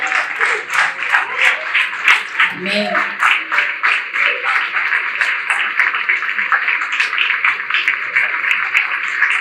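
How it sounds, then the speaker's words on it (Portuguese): A church congregation claps in a steady pulsing rhythm while a voice speaks and calls out over the clapping, which stays moderately loud throughout. "Vamos dar uma salva de palmas para o Senhor."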